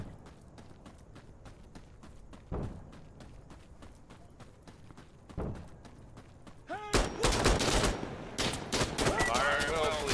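Video game battle in the Sandstorm shooter, with rapid rattling gunfire bursts and a couple of heavy thuds from explosive mortar fire, the shooting growing denser and louder toward the end, with voices under the noise.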